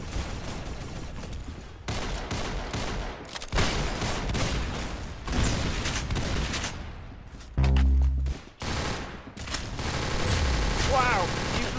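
Gunfire rattles through a multiplayer video game match in dense, repeated bursts, with heavier booming blasts near the middle, while players talk over the action.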